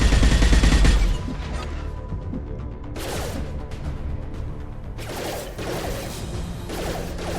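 Mass Effect 2 combat plays out with a heavy boom at the start, then repeated bursts of rapid gunfire and mechanical clatter over a constant battle rumble, fairly close and loud.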